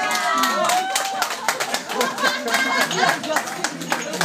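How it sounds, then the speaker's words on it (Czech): Wedding guests clapping and cheering, loud and close, with lively overlapping voices, shouts and laughter throughout. "Velký potlesk!"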